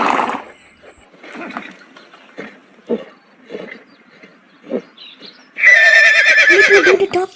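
Several soft horse snorts and low grunts break the quiet, then a loud, close whinny rings out near the end, long and shaking.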